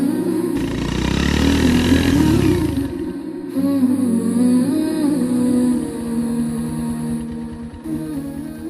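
A motorcycle engine revs loudly and close by in a long rising burst that cuts off, then runs again in a lower, rumbling idle with brief pauses.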